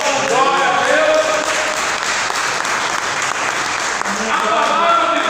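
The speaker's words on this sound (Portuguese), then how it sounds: "Pode aplaudir ao Senhor?" A church congregation claps steadily and densely for several seconds, the applause loud and sustained throughout with some voices mixed in.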